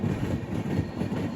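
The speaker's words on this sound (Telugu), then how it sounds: "పక్క ట్రాక్లో చూడండి ట్రైన్ ఒకటి వస్తుంది" A passenger train passes on the adjacent track, a steady low rumble of wheels and carriages rolling by continuously at close range, heard from aboard the Jhelum Express.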